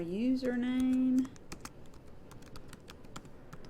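Someone types a username into a D2L login page on a computer keyboard: a run of sharp, evenly spaced key clicks, close and clear, after a brief voiced hum at the start.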